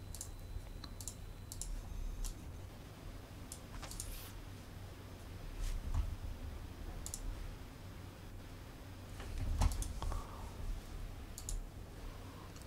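Scattered clicks of typing on a Sky Digital NKeyboard mechanical keyboard with red switches, soft irregular keystrokes tapping at low volume against quiet room noise.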